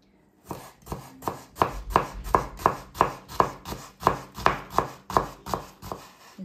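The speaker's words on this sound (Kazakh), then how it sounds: "Енді осы жуаны кәдімгідей үкі-ақ қылып, кішкентай қылып тураймыз." A knife finely chopping onion on a board, about fifteen crisp, evenly spaced chops in a steady rhythm, close and clear with no talk.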